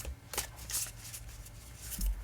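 Oracle cards from a Moonology deck are shuffled by hand in a quiet room: soft, brief riffling flicks and papery slaps, faint and close.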